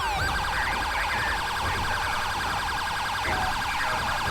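A loud emergency siren wails steadily and up close, its rapid rising-and-falling tone repeating without pause.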